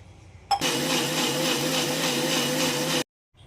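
A kitchen mixer grinder blends bottle gourd with garlic, ginger, salt and water. It starts with a sharp onset, whirs loudly and steadily for about two and a half seconds, then cuts off abruptly, with no voices.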